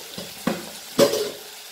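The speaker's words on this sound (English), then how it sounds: "And fry this nicely." Red spinach with turmeric and chili powder frying in a pan, a short stretch of soft sizzling broken by three quick stirring scrapes, the last one loudest.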